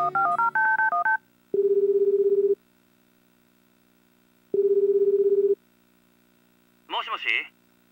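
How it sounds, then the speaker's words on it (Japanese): Telephone dialing tones in the Tokimeki Memorial Girl's Side 2nd Kiss video game: a quick run of keypad beeps, then two long ringing tones with silence between, followed by a short voiced blip. "ハリーに電話しよう"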